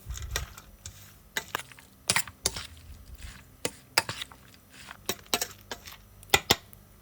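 Shrimp, salt, pepper and egg stirred together in a bowl, an uneven run of sharp utensil clinks and taps against the bowl, close and fairly loud, with no talking.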